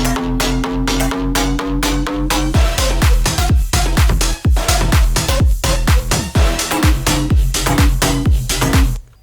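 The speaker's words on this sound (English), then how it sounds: "the other different thing which I've done in the drop here would be to actually add this percussion" Electronic dance percussion from the drop of an NCS track, with punchy repeated hits in a fast, dense rhythm over a sustained tonal bass and pitch-falling sweeps, loud and full, without talk.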